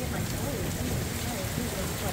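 Rain and hail pour down in a Van Nuys thunderstorm, a steady dense hiss of drops and pellets striking surfaces close by, with voices talking faintly beneath it.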